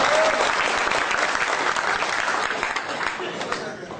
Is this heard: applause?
yes